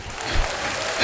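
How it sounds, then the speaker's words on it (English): Short burst of applause from an audience at a talk with a Nashville DJ, a dense wash of clapping hands that stays steady and then swells slightly at the end. "I don't know if that deserves an applause."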